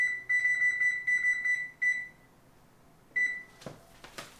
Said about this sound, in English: I'm going to turn my timer on 10 minutes.